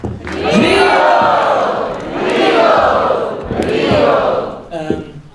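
A large crowd at an anniversary celebration roars and cheers in loud swelling waves, rising and falling three times, with shouts mixed in and a few scattered claps fading at the end.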